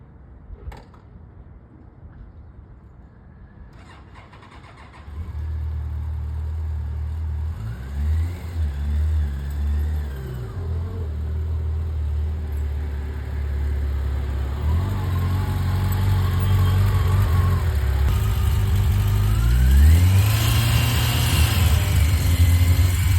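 A Yamaha FJR1300 motorcycle engine starts up and then holds a low rumble during slow-speed riding, with repeated throttle swells and a louder rev building near the end. No voices are heard.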